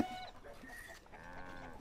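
Faint chickens clucking in short bursts in the video game Stronghold Legends, with a sharper cluck near the end, quiet and somewhat distant.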